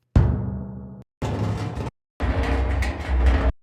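Three separate cinematic hit sound effects in mono, each a loud, sudden broadband impact with a decaying tail, separated by short silences and heard alone.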